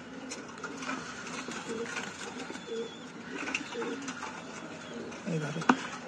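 A domestic pigeon sick with a cold gives soft, low cooing notes close by. The notes repeat over a rough, murmuring background with faint voice-like sounds and a short sharp knock near the end.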